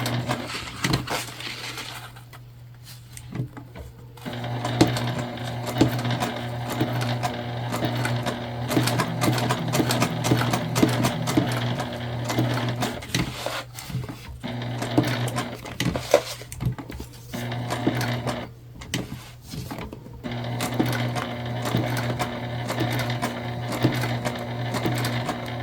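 A sewing machine stitches a tote bag made from the Magnolia Bag pattern, a steady loud mechanical whirr that runs in long bursts, pausing briefly a couple of times before starting up again.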